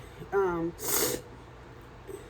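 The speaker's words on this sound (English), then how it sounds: "sorry I keep sniffling" A single sharp, close nasal sniffle follows a brief voiced hum in a quiet room, with a faint breath afterward.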